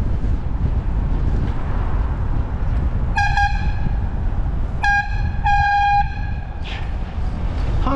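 A vehicle horn sounds in short honks, two quick ones, then a longer blast, over a loud rumbling background.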